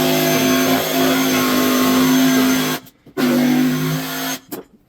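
Battery-powered saw cutting into a pumpkin to carve a jack-o'-lantern, a loud steady whining motor drone that cuts out twice briefly before revving back up, heard close with no talking.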